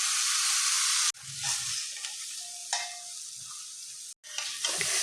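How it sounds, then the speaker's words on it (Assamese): Ground masala paste, loosened with a little water, fries in a pan with a bright sizzling hiss broken by stirring scrapes, with brief pauses where the sizzle drops away. "গোটেইখিনি মছলা দিয়াৰ পিছত মই ইয়াক আৰু অলপ টাইম ভালদৰে লৰাই ল'ম।"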